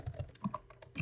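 Fingers tapping on a computer keyboard, a quick uneven run of about eight distinct key clicks over about a second, close and fairly quiet, with no voices.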